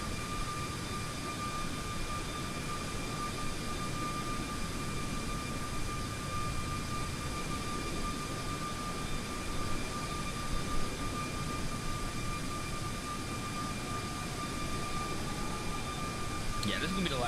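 A steady, even roar of jet engines continues as an iFly 737 MAX 8 airliner climbs out of Nashville in Microsoft Flight Simulator. The engine noise stays constant throughout, with faint tonal whines above the broadband rush.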